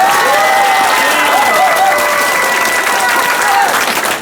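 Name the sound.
audience applauding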